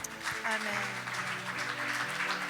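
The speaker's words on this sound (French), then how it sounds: "Applaudissons le Seigneur." A church congregation applauds the Lord during a French-language worship service, a soft, continuous patter of many hands mixed with voices and sustained tones.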